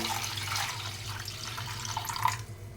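Water poured from a glass into semolina batter for an evening snack, a steady close splashing trickle that runs for about three seconds without any talk.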